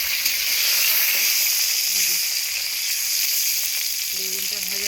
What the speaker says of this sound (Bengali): বেগুনটা ভাজা হচ্ছে বলেছে।